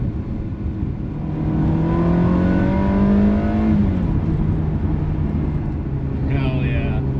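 A Ferrari 360 engine revs up and falls back through downshifts, a strong rising-then-dropping drone heard from inside the car over steady road noise.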